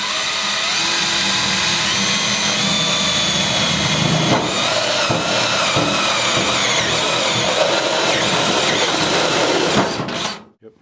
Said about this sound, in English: I'll go ahead and drill those access holes,